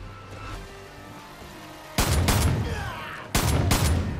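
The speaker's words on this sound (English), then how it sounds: "who's shooting at me?" Gunfire in the video game Far Cry 5 cracks out in two sudden loud bursts of rapid shots, each ringing with echoing tails, after a quieter stretch of game ambience.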